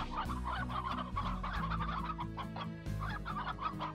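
Chickens in the farming video game Slime Rancher cluck in a steady, fairly quiet chorus, repeated clucks layered over a looping low musical background with no talking.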